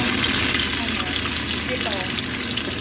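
Garlic frying in a pan for a home-cooked dish with anchovies and black beans, a steady loud broadband sizzle filling the whole clip with no gaps.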